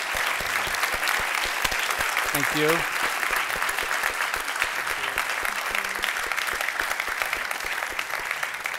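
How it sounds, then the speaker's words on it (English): Steady audience applause fills the room throughout, dense continuous clapping from a conference crowd, with a brief voice spoken briefly over it. "Give us a round of applause"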